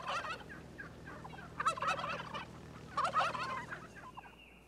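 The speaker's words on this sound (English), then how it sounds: "The real wild turkey is a far more graceful creature than either the barnyard or game farm breeds." Wild turkey gobbling, two distinct rapid warbling gobble bursts a second apart with softer calls between, clear and fairly near against a quiet outdoor background.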